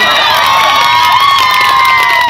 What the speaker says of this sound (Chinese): 好，大家掌声鼓励鼓励